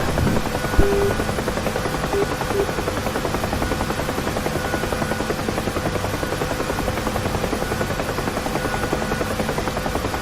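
A UH-1 Huey helicopter rotor in the DCS flight simulator beats in a steady, even drone that stays close and unbroken throughout.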